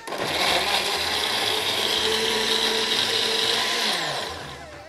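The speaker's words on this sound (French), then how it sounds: "On va mettre tous les goyaviers dans le blender." Blender running steadily on guavas with water and sugar, a loud continuous whirring motor hum that holds for several seconds before easing off at the end.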